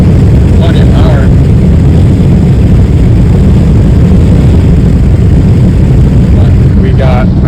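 A 1965 Chevrolet Bel Air with a swapped engine cruises along, heard from inside as a loud, constant low roar and road rumble that barely changes, with brief faint chirps near the start and end.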